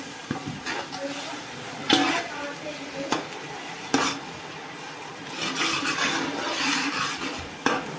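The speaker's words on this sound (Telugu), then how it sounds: "ఈ ఉల్లిపాయ పేస్ట్ పచ్చివాసన పోయే వరకు వేగనివ్వాలి" Onion paste with turmeric sizzles steadily in a pan for a country chicken curry, while a spoon stirs and scrapes through it in repeated sharp clinks and scrapes, close and fairly loud.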